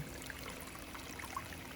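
Hot water running steadily from a tap, a continuous soft, faint hiss of flowing water with no talk over it.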